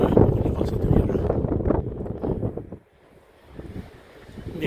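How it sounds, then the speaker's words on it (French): Strong gusting wind buffets the microphone on a hiking trail in the Aubrac hills on the Compostela pilgrimage route, loud and roaring, dropping briefly to a lull before rising again. "il y a du vent"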